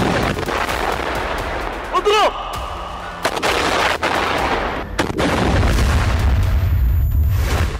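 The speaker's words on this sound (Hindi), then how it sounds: "हमास ने लड़ाकों से ड्रोन से उस इमारत को उड़ा दिया जिसमें आईडीएफ के सैनिक मौजूद थे।" A drone strike destroys a building in Gaza during fighting between Hamas and Israeli troops, bringing dense, loud bursts of gunfire and heavy booms that crowd together. A strong rumble follows, with voices faintly mixed in.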